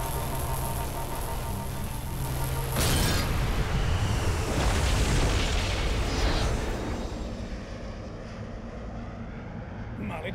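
A loud explosion erupts into a sustained roaring rumble that slowly dies away.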